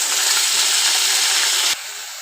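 Greens dropped into a pan of frying onions for an okra chutney give a loud, steady broadband sizzle that runs close-up for almost two seconds, then falls to a quieter hiss.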